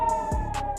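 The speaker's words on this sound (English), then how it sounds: "air raid sirens early Sunday morning sent residents scurrying toward bomb shelters" An air raid siren sounds over Haifa in northern Israel early on a Sunday morning: a steady, sustained tone held loud and unbroken for a brief moment.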